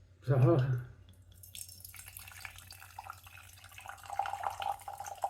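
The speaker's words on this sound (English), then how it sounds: "Let's pour it into the artist straw glass." Cider is poured into an artist straw glass, with a soft trickle and a light, rising fizz after a brief loud vocal sound at the start.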